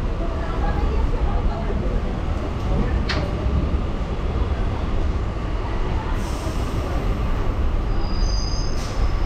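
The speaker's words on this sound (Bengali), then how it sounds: "পাক্কা 11টায় ছাড়লো আমাদের ট্রেন পাঁশকুড়া থেকে একদম দীঘার উদ্দেশ্যে" A local train pulling out of Panskura station bound for Digha in West Bengal, with a steady loud rumble of wheels and carriage noise throughout and a faint squeal near the end.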